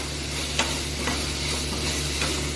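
Vegetables sizzle steadily in a pan as they are coated in sauce for a Mexican rice bowl sizzler, with a constant close hiss and a few soft stirring knocks.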